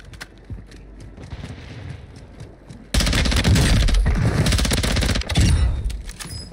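Gunfire from a teammate in the video game Warzone 2, a dense crackling burst of rapid automatic shots that kicks in suddenly partway through and stays loud and sustained, with a quieter stretch of distant shooting before it.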